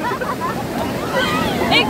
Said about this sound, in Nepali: छाल आयो